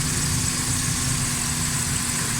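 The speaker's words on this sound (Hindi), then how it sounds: "गाड़ी का साउंड भी मज़ेदार है।" Suzuki Alto 1000cc car engine idling steadily after carburetor and timing adjustments, a close, continuous low rumble with a faint hum holding evenly throughout, no voices.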